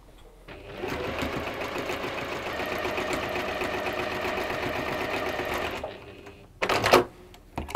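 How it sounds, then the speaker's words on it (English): A sewing machine stitching quilt block pieces together in pairs, running steadily for about five seconds at close range with a rapid mechanical chatter, then stopping, followed by a few brief handling clunks. "I'm sewing together in pairs, and then I'm sewing the final one onto there"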